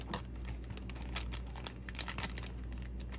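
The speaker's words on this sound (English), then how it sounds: "I will open the pack and show you guys." A plastic pack of craft pearls being cut and torn open, a close, quiet run of crinkling and rustling with small sharp crackles scattered throughout.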